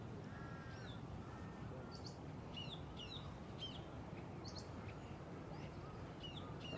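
A crow in an outdoor setting gives a series of short, fairly faint caws scattered across the clip over a steady hiss of background noise.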